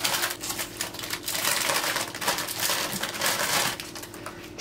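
Plain biscuits are broken up by hand into a bowl for a mosaic cake, producing a steady, close stream of dry crunching, snapping and crumbling for several seconds without pause.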